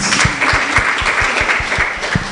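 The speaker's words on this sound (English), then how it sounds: "Let's clap for these guys." Audience applause at a fashion awards event, with a dense steady patter of clapping and low rhythmic thumps running under it throughout.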